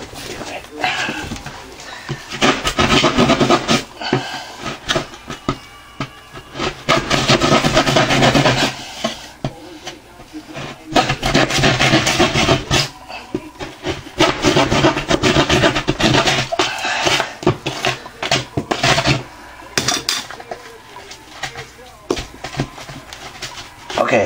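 Drywall being cut into a square patch, with bursts of close scraping and rasping strokes in uneven runs separated by short pauses.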